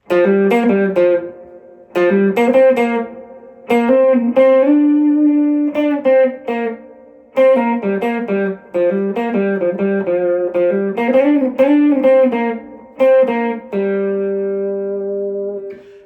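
An electric guitar plays a melodic solo of sustained, bending notes in short phrases separated by brief pauses, bright and close with a slightly processed tone.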